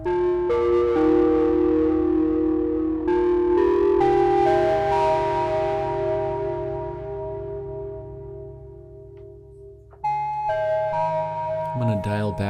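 A downtempo synthesizer patch with a distortion effect plays sustained, layered chords that slowly fade, then a new, brighter chord enters sharply near the end, with no talking.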